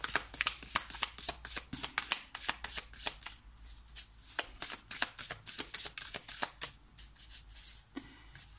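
Tarot cards being riffled and shuffled by hand close up, a fast run of crisp flapping bursts with brief pauses between shuffles, no talking.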